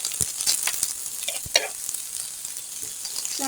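Chilli flakes stirred and fried in a hot pan give a soft, continuous sizzle, with scattered crackles and the scrape of a spoon at irregular moments, close and fairly quiet with no talk.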